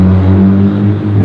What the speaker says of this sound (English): for that loud car